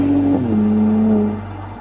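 Mercedes-AMG SLC 43 with a smaller twin-turbo engine, a loud steady drone that shifts pitch down once as the revs change, then holds and fades slightly at the end.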